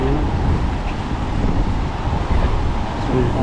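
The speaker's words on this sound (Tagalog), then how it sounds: "Mahangin po siya." Steady wind roars across the microphone beside open water on a fishing outing, a dense continuous low rumble with faint surf underneath and no voices.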